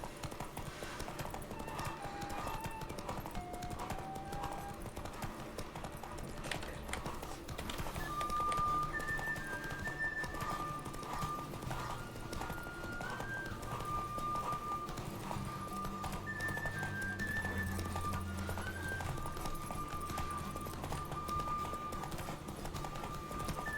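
Hooves of the horse Roach clip-clop steadily at a gallop in The Witcher 3: Wild Hunt, with an occasional whinny and game music over a continuous rumble, sustained for the whole stretch.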